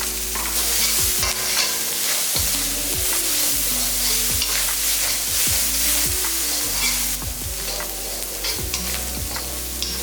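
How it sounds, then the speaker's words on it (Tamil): Okra, onion and tomato are sautéed in a pan with a loud, dense sizzle under frequent rhythmic spatula scrapes and knocks against the metal, close and continuous, with a steady low hum beneath and no voices. "இந்த அளவுக்கு நல்லா வதக்கினா போதும்"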